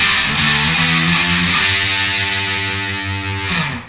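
A loud, heavily distorted electric guitar three-note power chord rings out, then shifts to another chord and another, sustained and thick, with no voices, in a punk style.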